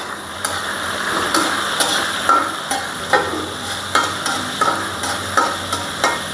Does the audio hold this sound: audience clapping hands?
no